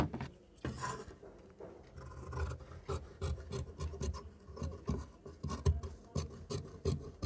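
Scissors cut through blouse fabric on a tailoring table, a close run of repeated rasping snips and rubbing scrapes in an irregular rhythm.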